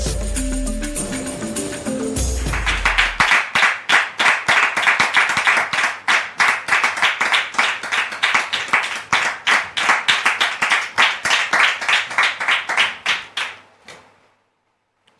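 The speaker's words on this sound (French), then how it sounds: "Je voudrais donc, très cher public, vous demander de les recevoir avec vos applaudissements" A studio audience on a French-language talk show claps in a fast, steady rhythm for about ten seconds after a short musical sting, then the clapping stops abruptly.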